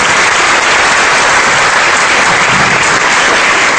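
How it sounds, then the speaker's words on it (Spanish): Loud, dense applause from a seminar audience fills the whole stretch, steady and close with no pauses or voices breaking through. "Aplaudan todos, por favor."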